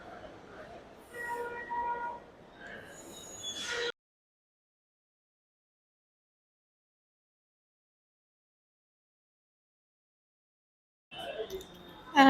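A Delhi Metro train at Botanical Garden station hums and rumbles with tonal whines, then cuts to total silence before the rolling train noise returns loudly at the end.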